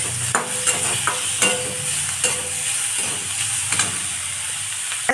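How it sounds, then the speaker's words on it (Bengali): Grated cucumber and grated ginger being stirred in a hot pan, giving a steady sizzle and hiss with repeated scraping clicks of the spoon against the pan, close and continuous. "এগুলো আমি একসঙ্গে একটু নেড়ে নেব।"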